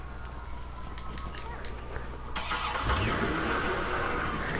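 Car engine starting in the Watch Dogs video game, a rising whirr and rumble of ignition catching partway through, then a steady running engine, mixed under game noise and talk.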